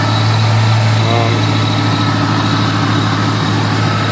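Supercharged Shelby Cobra V8 idling steadily with a polished blower, a constant low rumble holding even throughout at close range, with a voice speaking briefly over it.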